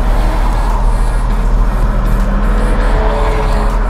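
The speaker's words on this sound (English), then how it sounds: "That 6-liter doing work in that heavy Chevy." A 6-liter engine in a heavy Chevy truck drones loudly and steadily as it works under load, a constant deep rumble with road noise close by throughout.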